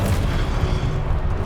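A deep, rumbling Confringo spell explosion in the video game Hogwarts Legacy, a loud, sustained boom that fills the whole short moment without a clear break.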